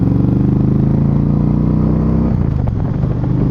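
Motorcycle with a dragon's breath air intake and a 2-into-1 Roadhouse exhaust idling loudly up close, a deep pulsing engine note with a throaty intake gurgle that shifts slightly near the end.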